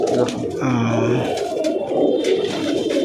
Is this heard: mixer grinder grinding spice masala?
no